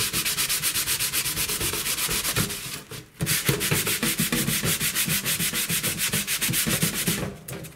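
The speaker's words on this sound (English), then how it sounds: "So we're going to keep scrubbing this a little bit and see what else will come off here." Scrub Daddy Big Daddy scrubber being worked vigorously over a surface in quick, regular rubbing strokes, close and steady, with a brief pause partway through and no talking.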